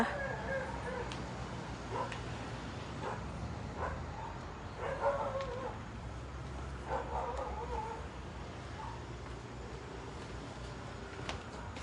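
Dogs at an abandoned house bark and yip in short, scattered bursts at a moderate distance, over faint background hiss, while a person talks nearby.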